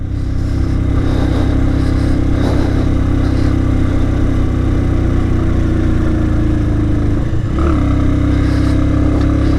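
A motorbike climbs a steep hill road around Dim Pahar in Bandarban, its engine droning loud and continuous with small shifts in revs throughout the ride.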